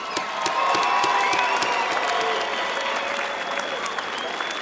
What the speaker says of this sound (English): how about a big round of applause for both of these fighters?